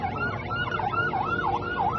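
A Palestinian Red Crescent ambulance siren wails in a steady rising-and-falling cycle, about four sweeps in two seconds, loud and near over low traffic rumble, with no voices.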